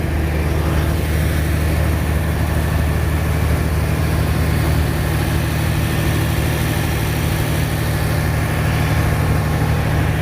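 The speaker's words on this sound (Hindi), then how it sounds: "ये है ट्रेन का इंजन।" Diesel locomotive of the Karakoram Express idling at a station, a loud steady low rumble with constant engine vibration and generator drone, no voices over it.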